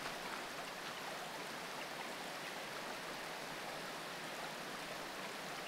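Steady, continuous rush of flowing water in Minecraft (modded 1.12.2), a dense broadband hiss like a stream or small waterfall, moderately quiet and unbroken, with no voices.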